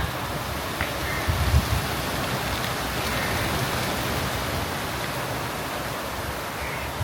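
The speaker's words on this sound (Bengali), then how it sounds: "বৃষ্টিটা ওই দিক থেকে আসতেছে সেই তীব্র বেগে আসতেছে বৃষ্টিটা" Heavy rain pours as a storm approaches, a dense, even roar of downpour that holds steady throughout with no breaks, loud and enveloping, with no voices.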